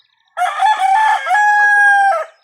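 A rooster crows once, loud and close, a single clear cock-a-doodle-doo lasting about two seconds with a long sustained final note, alone without talk.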